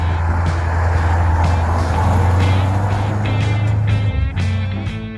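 A Soviet MAZ-537 heavy military truck engine rumbles with a deep, steady low drone, loud and close, holding its note and then wavering briefly near the end as faint noise rises above it.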